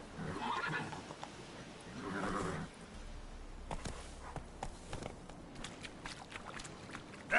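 Roach the horse in the Witcher 3 video game, two loud neighs close up followed by hoof clip-clops and scattered thuds and clicks of movement.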